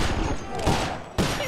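A brief burst of rapid gunfire sounds in the Sly Cooper: Thieves in Time video game, loud and dense volleys with a sharp new blast near the end.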